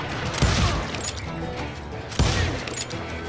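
Gunfire in the Western shooter Call of Juarez: Gunslinger, two sharp, close shots about two seconds apart over a busy background of clattering mechanical noise.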